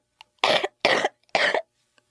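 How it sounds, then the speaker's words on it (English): Three distinct coughs from a person with a nasty cough, evenly spaced and close, each a harsh broadband burst of about a quarter second with brief quiet gaps between. "that sounds like a nasty cough"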